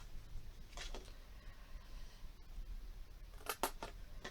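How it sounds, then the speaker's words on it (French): Small scissors cutting through paper house facades make two brief, quiet bursts of snipping, one early and one near the end, over a faint room hush. "je vais prendre le petit ciseau. On coupe jusqu'au pli sur"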